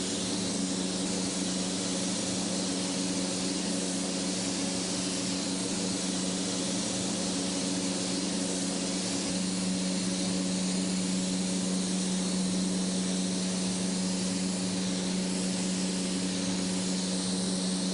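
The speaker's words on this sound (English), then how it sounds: "The overhead sound you're hearing are the fans to inhale the overspray of this candy from this type of gun." Overhead extraction fans drawing away overspray from an industrial paint spray gun applying candy paint, a steady loud broadband roar and hiss that holds unbroken throughout with no talk.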